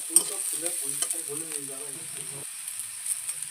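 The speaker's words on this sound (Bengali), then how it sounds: "পেঁয়াজটা একটুখানি লাল লাল করে ভেজে নেব" Soft sizzling of onions frying in a pan until reddish, with light stirring scrapes, while a voice speaks briefly over it.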